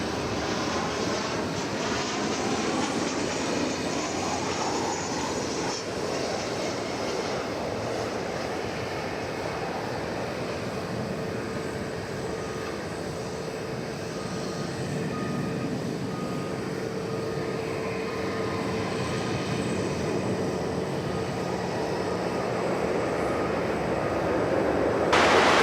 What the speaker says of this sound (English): And that flight just came in from Omaha, Nebraska.